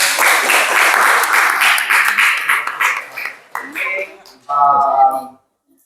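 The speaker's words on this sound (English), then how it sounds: "Please give a big applause for yourself." Audience applause at a national university debate competition in Indonesia, a dense steady clapping for about three seconds that thins out as voices take over and talking continues to the end.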